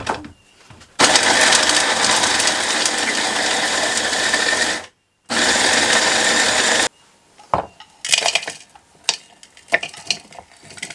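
A food processor chops ingredients for a raw no-bake dessert, whirring loudly and steadily in two long runs separated by a brief pause, then a few short pulses and clatters.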